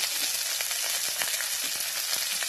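Onion and chili fry in a little fish oil with a dense, steady crackling sizzle that stays close and loud throughout, with no talking.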